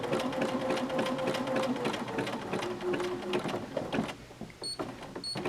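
A sewing machine runs zigzag stitches around a fleece applique in quick, rattling runs, then slows to a few short, separate bursts near the end.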